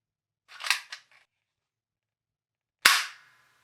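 A quick double clack from a foam dart blaster with no plunger tube, a pause, then one sharp snapping shot with a brief ringing tail.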